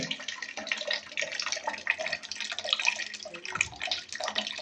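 Water runs steadily from the tap of an instant electric hot water geyser, a continuous close splashing hiss with no talk over it.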